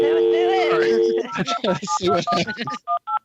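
A phone number is dialed on a telephone, a quick run of DTMF keypad tones sounding one after another, preceded by voices talking over a steady tone.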